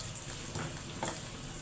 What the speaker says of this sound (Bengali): ডাল হয়ে গেছে, এখন ডালগুলারে বাগার দিয়ে দিব।